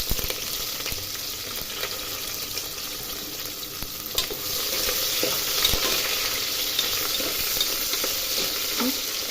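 Long-sliced onions fry in hot oil for soya biryani, a constant soft sizzle broken by scraping stirs and light spoon knocks against the pan, close and quiet.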